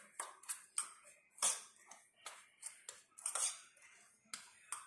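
A metal spoon scrapes and taps against a container while chili powder is mixed for garlic pickle, a run of sharp clinks and scrapes in uneven rhythm, close and distinct with no talking.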